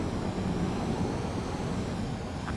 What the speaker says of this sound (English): I don't think my plane will make it.